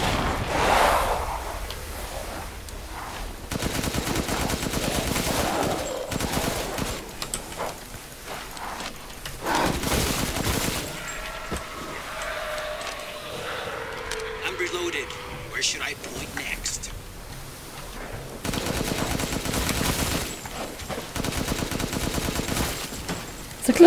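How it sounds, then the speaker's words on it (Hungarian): Bursts of rapid gunfire crackle repeatedly in the video game Resident Evil 8, with loud volleys separated by short lulls and a busy background of game effects. "Lövöldöznek."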